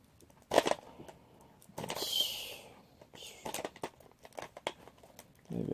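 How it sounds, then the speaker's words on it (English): Shears cutting and tearing through cellophane wrapping on a record, with crinkly crackling bursts and snips at close range, separated by short quiet gaps. "Slice through the cellophane and not my own skin."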